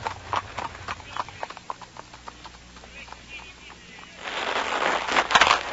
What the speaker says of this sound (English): Johann started the horses at a quick pace